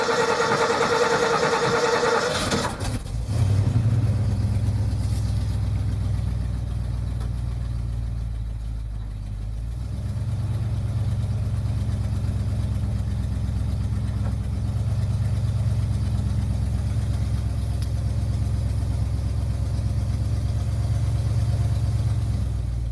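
A 1971 Ford F250 Highboy truck engine runs after its first start of the year with a working choke. A brief high rev settles into a loud, steady, low idle rumble that continues close up.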